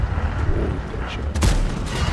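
Tank cannon shot in World of Tanks from a T57 Heavy Tank, a sharp loud boom followed by rumbling battle noise, with someone speaking quietly nearby.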